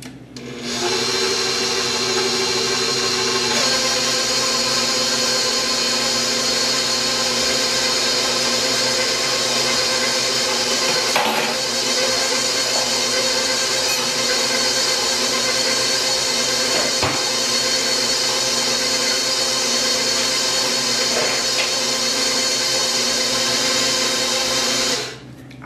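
An electric mixer beats chocolate chip cake batter with vanilla extract in a home kitchen, a loud continuous motor whir running unbroken for about twenty-five seconds with only slight shifts in tone.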